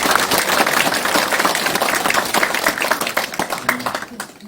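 An audience at a lecture event in a football centre hall breaking into loud, sustained applause, many hands clapping densely and close, with some voices mixed in before it thins at the end.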